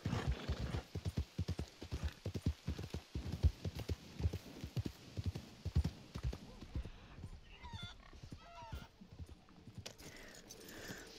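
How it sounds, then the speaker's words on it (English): Hooves of a bay horse in Red Dead Online clip-clop in a brisk, even rhythm close by, fading somewhat later as a snort and a soft whinny break in. "so this horse's name is Sugar."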